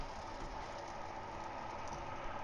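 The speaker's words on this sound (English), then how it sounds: "turn on the range hood so you pardon the noise" A kitchen range hood fan hums with a steady, low broadband whoosh, faint and unchanging throughout.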